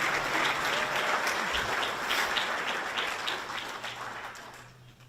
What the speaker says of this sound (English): Could we have one more round of applause?